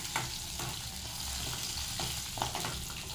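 Fennel seeds dropped into hot oil for masala puri, crackling and sizzling in a steady close wash of frying noise with a few light stirring scrapes.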